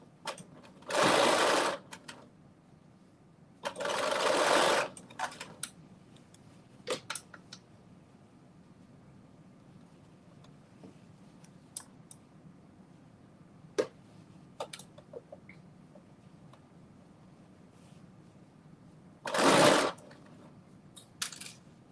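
A sewing machine stitches a knit denim dress in three short, close whirring runs, separated by long quiet stretches with faint clicks and handling taps.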